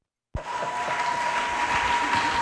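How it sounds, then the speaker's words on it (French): Sudden burst of steady, close applause from a crowd honouring a guest at a wedding ceremony, breaking out of silence and clapping continuously until the end. "on va aussi l'acclamer quand même"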